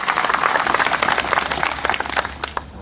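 Farmers' rally audience in Tankara, gathered over a power-line dispute, breaks into loud, sustained clapping that thins toward the end, with a few scattered voices mixed in.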